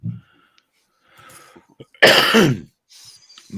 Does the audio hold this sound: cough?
yes